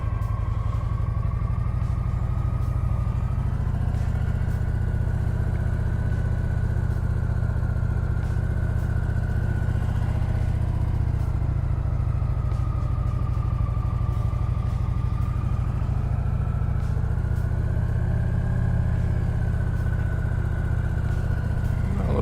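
A motorcycle engine runs continuously while being ridden, a loud, close, steady drone with gentle rises and falls in revs and some mechanical clatter, no voices.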